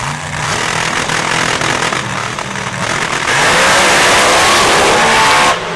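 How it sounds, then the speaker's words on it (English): A pro stock drag racing car at full throttle during an open-class drag meet, its engine a loud, harsh, continuous roar that builds and holds for several seconds before cutting off. "One of the scariest sounding cars you will ever hear live."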